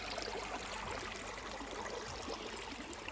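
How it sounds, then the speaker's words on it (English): A small mountain stream runs at a water source on the Appalachian Trail in New York, a steady close rush and trickle of water that holds without pause and with no voices. "And this right there, that little stream going down, that's where I got water"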